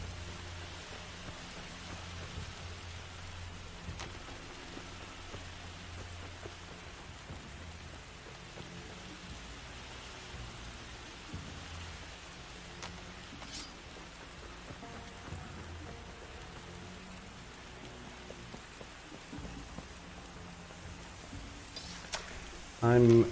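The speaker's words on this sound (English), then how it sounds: "the mix here of like wind and rain and splashing and, you know, that makes a big difference" Rain and wind in the video game Far Cry 2, a steady, soft hiss of rainfall with a low rumble underneath, continuous for over twenty seconds, with a few faint clicks and a sudden louder thump at the very end.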